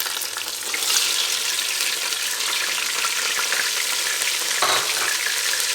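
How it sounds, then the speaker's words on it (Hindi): Ground onion paste frying in hot ghee, a loud, dense, continuous sizzle close up with occasional stirring, no speech. "यहाँ प्याज को अच्छी तरह ब्राउन करना है।"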